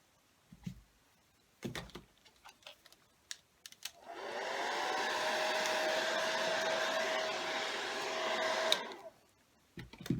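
A hair dryer runs steadily for about five seconds, drying a freshly applied plaster of Paris and cinnamon coating on a grungy rust-effect craft piece, preceded and followed by light clicks and taps.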